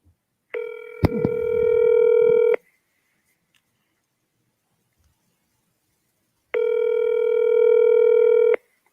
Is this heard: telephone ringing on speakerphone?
yes